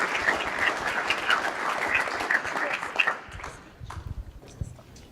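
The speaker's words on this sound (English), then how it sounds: "Can we give Jamila just one more round of applause?" Applause from a conference audience at a closing session, brisk clapping that fades out after about three seconds, followed by scattered footsteps and light room noise.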